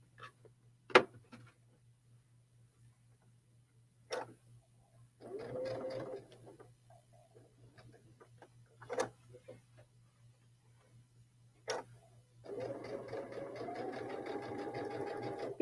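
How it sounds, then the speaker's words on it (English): Sewing machine running a reinforced straight stitch, in short bursts of whirring motor and rapid needle ticking separated by sharp clicks and quiet pauses, close and without talk. "you can also achieve that by using that reinforced straight stitch"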